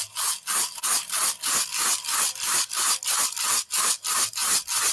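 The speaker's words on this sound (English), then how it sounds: "so I'm going to use a rattle." A rattle is shaken for a sacred song in a studio space, producing regular rhythmic bursts of dry, scraping shaker noise about twice a second, loud and close, with no voices.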